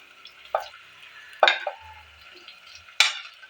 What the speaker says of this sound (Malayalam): ഇനി നമുക്കിത് സവാള ചേർത്ത് കൊടുക്കാം